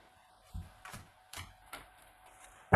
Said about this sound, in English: Why am I still shuffling those?